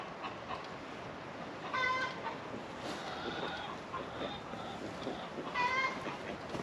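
Ducks crowd around a laying hen on a South Carolina homestead, letting out two short bursts of quacking calls over a low outdoor background.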